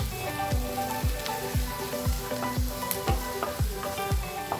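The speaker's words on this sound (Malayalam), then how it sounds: "നമ്മുടെ സവാളയും നന്നായിട്ടൊന്ന് വഴന്ന് വരണം. ചെറുതായിട്ട് ഗോൾഡൻ കളർ ആവുന്ന വരെ ഒന്ന് വഴറ്റി കൊടുക്കാം." Onions and curry leaves sauté in a hot pan for a prawn roast, a busy crackling sizzle broken by regular scraping strokes of a spoon about twice a second, close and steady with no talking.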